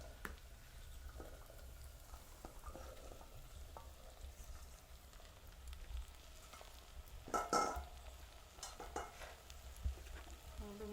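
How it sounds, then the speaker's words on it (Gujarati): Okra frying in a pan in a village kitchen, a soft, steady sizzle with a few scraping stirs and a brief clatter of utensil on the pan partway through, fairly faint and without speech. "આપણે નાખી દઈએ ભીંડો."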